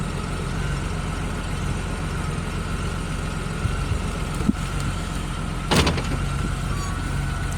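A Honda Goldwing 1500 motorcycle rides through town, its engine holding a steady low drone under constant road noise, with a couple of brief bumps and one short louder burst.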